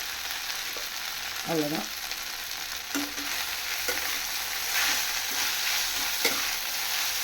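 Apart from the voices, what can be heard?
idli upma frying and stirring in a pan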